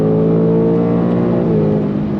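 A 2024 Ford Mustang GT Performance Pack V8 pulls hard under throttle, a loud, steady, close engine roar rising gently in pitch with no one speaking.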